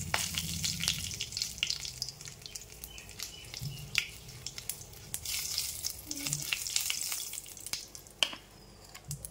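Cumin seeds and bay leaf crackle in hot oil in a wok, a close, busy sizzle with sharp pops and spits scattered through it, with no speech.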